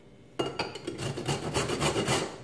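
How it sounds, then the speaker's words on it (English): Fresh turmeric root is rubbed on a grater in quick, close back-and-forth rasping strokes, a steady scratchy rhythm with nothing else heard. "I ended up grating the turmeric like 40 times"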